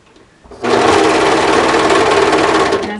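A serger sews a seam on a Lisbon cardigan, matching the sleeve end at the seam intersection. It starts abruptly after a brief quiet lead-in, then runs as a loud, steady, continuous whir with no talk.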